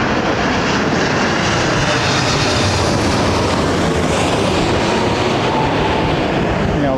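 A Royal Jordanian airliner at London Heathrow Airport gives a loud, steady jet engine roar, broadband and continuous throughout, with no voices.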